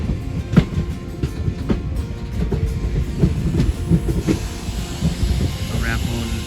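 A train pulls into New Jalpaiguri station on a foggy day, a steady low rumble with rhythmic clickety-clack of wheels over rail joints, loud and close, with people talking over it.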